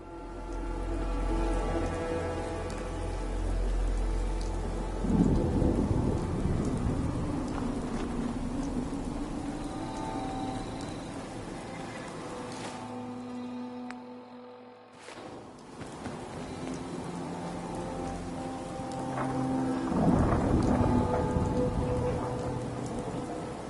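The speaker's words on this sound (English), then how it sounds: "Hope this rain lets up soon." Steady heavy rainfall pours on surfaces throughout a video game scene, with low rumbles of thunder rolling in and fading as the storm continues.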